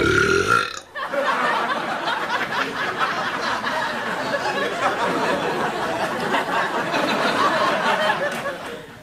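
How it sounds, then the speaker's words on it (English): Cats burp loudly in a short series of throaty belches, with a studio audience laughing and chattering around them on a late-night TV talk show. "Nothing funnier than cats burping"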